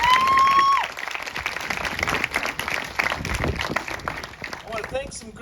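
Audience at a school Blue Ribbon ceremony breaking into applause, a dense, sustained patter of many hands clapping that fills the space throughout, with a brief whistle-like tone at the very start.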